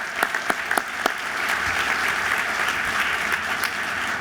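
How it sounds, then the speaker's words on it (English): An audience applauds for a health commissioner at an indoor announcement of a hospital expansion. Dense, steady clapping fills the room, with a few sharper claps standing out at the start. "a round of applause."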